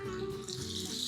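Water pours steadily into a cauldron of goulash cooking outdoors in a forest, a brief continuous splashing rush close by with no voices.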